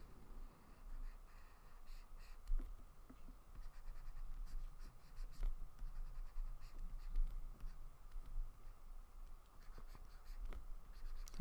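A pencil scratches across paper while drawing an open mouth, a close, continuous dry scratching in short strokes with occasional sharper taps, and no voices.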